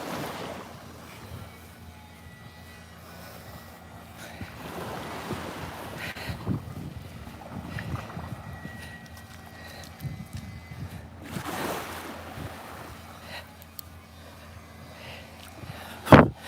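Ocean waves at a beach, slow surges washing in every few seconds under gusty wind buffeting the microphone, moderately loud with no voices.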